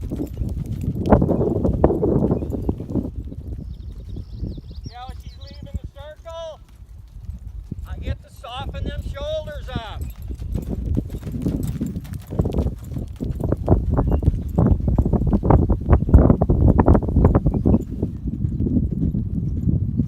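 Horse hooves clip-clop in a steady walking rhythm close by during a training ride, while someone talks over them almost the whole time.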